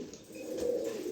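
A pair of pigeons coo steadily and close by, a continuous low throaty murmur that swells slightly toward the end, with no talking.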